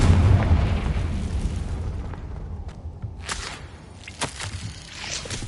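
Confringo blasting spell in Hogwarts Legacy, a booming explosion opening the stretch and rumbling away, followed by sharp cracking bursts and debris.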